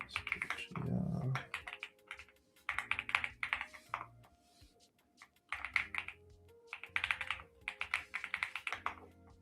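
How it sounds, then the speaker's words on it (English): Computer keyboard typing comes in quick clattering bursts separated by short pauses, quiet and close, with a brief low growling sound near the start. "Lots of typing."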